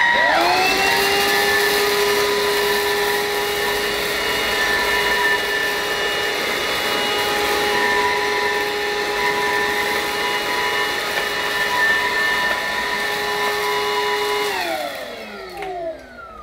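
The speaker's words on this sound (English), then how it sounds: "I'm going to try this path again, this time using the higher suction setting, but still with the brush roll turned off" Bissell Powerglide cordless vacuum cleaner running on its higher suction setting with the brush roll off, a loud, steady, close whine with layered motor tones that winds down near the end.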